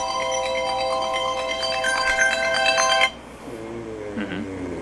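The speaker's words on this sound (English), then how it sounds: "phone was going off" A mobile phone ringtone rings loudly in a steady melodic pattern for about three seconds and then cuts off abruptly, leaving quieter background sound and a faint voice.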